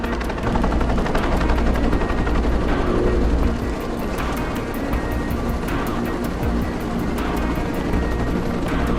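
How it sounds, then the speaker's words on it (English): A helicopter in a Tomb Raider Legend cutscene drones with dense, rapid rotor chopping, loud and continuous throughout, its beat pulsing in waves with no speech over it. "Nishimura's got a chopper outside waiting for you."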